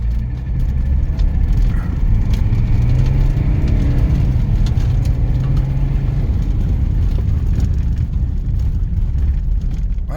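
A 1978 Mercedes-Benz 300SD builds speed with a steady, loud engine drone and road roar that holds throughout, heard close and continuous without voices.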